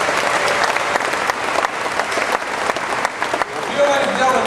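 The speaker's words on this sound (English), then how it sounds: "How about another round of applause for this great stunt team?" A theme-park audience at a car and motorcycle stunt show applauds in a sustained wave of clapping and some cheering, loud and continuous, while an announcer speaks over it.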